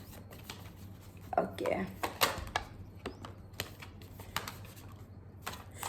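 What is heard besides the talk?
shuffling tarot cards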